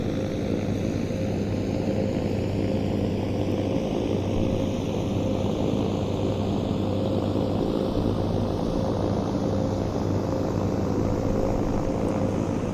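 A fully electric airplane flies with a steady, even drone of motor and propeller hum that holds constant for the whole stretch, close by and moderately loud, with no voices.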